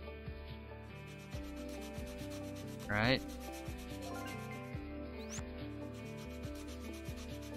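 Sanding a wooden toy in Toy Tinker Simulator makes a continuous soft rubbing rasp under steady background music, with one brief louder sweep and someone speaking a word.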